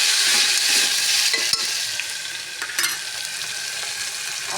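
Fenugreek seeds sizzling in hot oil for Gujarati dal, a loud continuous frying hiss with brief crackles and pops, close and without talk.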